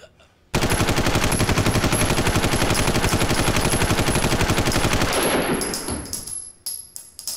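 Rapid automatic gunfire from a gun in the video game Gotham Knights, a loud unbroken burst of evenly spaced shots lasting several seconds that breaks off into scattered clanks and softer impacts.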